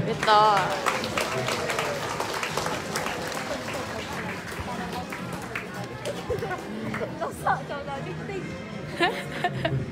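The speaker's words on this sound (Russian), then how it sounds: "Ваши аплодисменты." A crowd applauds at an outdoor military tank competition in Russia, the clapping loud and continuous throughout with a background hum of voices and an announcer speaking over it.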